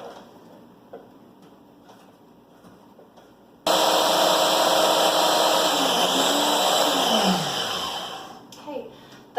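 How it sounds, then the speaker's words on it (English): A kitchen blender whirs loudly through a tofu quiche mixture for a veggie quiche, starting abruptly after a quiet stretch, holding a steady high-pitched drone with a falling tone, then winding down near the end. "We'll just blend this till it's nice and smooth"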